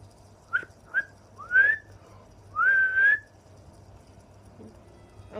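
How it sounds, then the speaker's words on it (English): Several short whistled notes from a person, a couple of quick chirps followed by longer rising and sustained tones, fairly close and clear over a low background hum. "I'm whistling."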